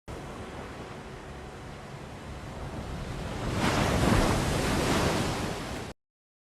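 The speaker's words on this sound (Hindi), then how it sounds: "तो ये जो इसमें पानी की आवाज़ थी बेसिकली वो पहले से ही आपके पास यहाँ इन होनी शुरू हो गई" Ocean waves washing in with a steady rushing surf, swelling louder toward the end before the sound cuts off abruptly, with no voices.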